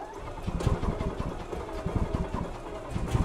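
A gas-powered 2009 EZGO RXV golf cart engine runs close by with a rough, rapid chugging idle, steady and rhythmic throughout with no pauses.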